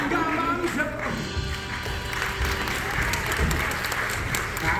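Theater audience at a sensory friendly stage performance clapping steadily for several seconds, a dense even patter with some voices mixed in beneath it.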